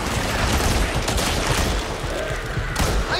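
Sustained gunfire from a zombie shooter game, Back 4 Blood, close and loud, a dense continuous barrage with bursts running the whole way through and no talking.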